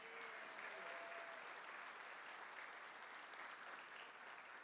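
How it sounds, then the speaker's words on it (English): Sustained applause from an outdoor audience for a choir at a Martin Luther King Jr. Center ribbon cutting ceremony, an even, continuous patter of many hands heard from a distance, fairly faint. "Please give another rousing round of applause for our amazing choir."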